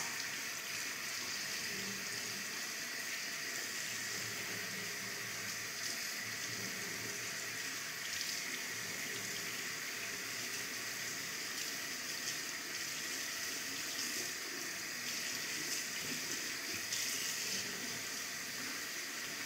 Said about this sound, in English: Sometimes it takes a while to rinse a guinea pig